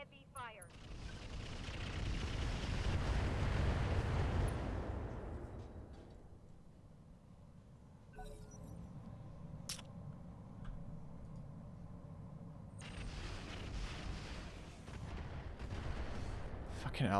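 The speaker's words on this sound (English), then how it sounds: "he just walked up and shot an artillery piece" Artillery barrage in the BattleTech Roguetech mod: a dense, rumbling roll of blasts swells for several seconds, fades, then returns with lighter crackling impacts and sharp ticks over a steady mechanical hum.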